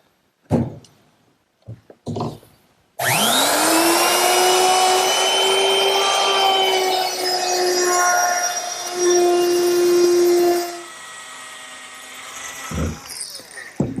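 A power tool chamfers three edges of a 4-inch-wide oak backsplash clamped in a vise. A few knocks come first, then a loud, steady motor whine lasts about eight seconds before winding down to quieter clatter.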